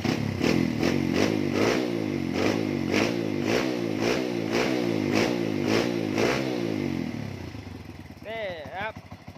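A Wave 100 dirt bike with a freshly tuned carburetor revs loudly and close up in a steady series of quick throttle blips, then settles toward idle near the end.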